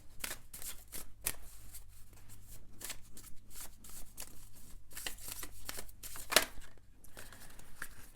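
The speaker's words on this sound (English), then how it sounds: "I'm going to shuffle some of these astrological cards for you." Astrology cards are shuffled close up in quick, papery riffles and snaps, repeating irregularly for several seconds with no talking.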